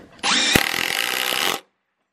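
Hitachi triple hammer impact driver sinking a GRK T25 framing screw, a loud close rattling hammer burst lasting just over a second, then abrupt silence.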